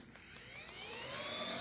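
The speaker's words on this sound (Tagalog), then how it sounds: "mayroon pala akong electric fan" An Itichiwa electric fan spins up, its rising motor whine and airy rush growing steadily louder over nearly two seconds, close by and alone.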